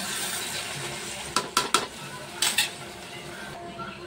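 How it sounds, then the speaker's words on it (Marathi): Washed rice and water being stirred in a pot for egg biryani, a few short metallic scrapes and clinks of a spoon against the pot over a soft background hiss, with no talking. "तर अशा प्रकारे आपण पाण्याने राईस मिक्स करून घेतलं"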